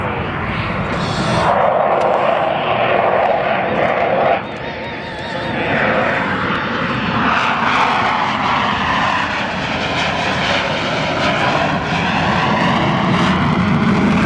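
Military jet formation with gear and flaps down flying low and slow past an air show crowd, a loud continuous roar with shifting whooshing pitch sweeps, briefly dipping before surging again, while an announcer talks over it.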